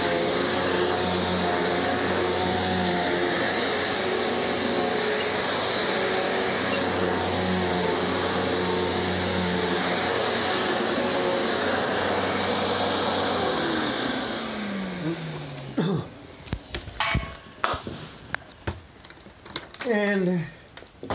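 Twin Energy upright vacuum cleaner runs loud and steady at close range with a droning motor hum for about fourteen seconds, then winds down and stops, leaving clicks and handling knocks.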